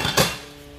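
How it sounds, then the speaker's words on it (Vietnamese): Metal pot lids and saucepans from a set of Japanese cookware clink and clatter together in one short, bright burst that rings briefly and fades. "Hai cái nắp vung này. Xoong vung này."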